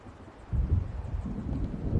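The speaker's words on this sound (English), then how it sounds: "It seems there's a storm coming." Low rumbling thunder of an approaching storm over the water in the video game Alan Wake, a steady dull roll that swells after a quiet start and stays moderately loud with wind-like texture.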